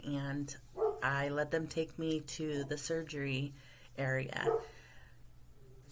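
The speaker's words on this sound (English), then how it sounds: "That's my dog barking," A dog barks in short, sharp repeated bursts indoors, mixed in with a person talking over and between the barks.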